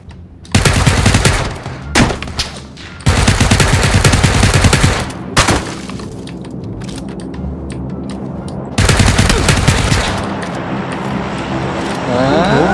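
Bursts of rapid automatic gunfire in PUBG, loud and close, separated by brief lulls with a low rumbling background.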